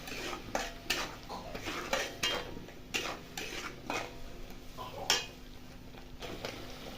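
A spoon stirs and scrapes Bengali-style prawn masala in a pan, giving repeated quiet metallic clinks and knocks in an uneven rhythm over a soft background hiss.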